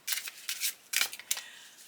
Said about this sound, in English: I'm going to shuffle the cards and lay them out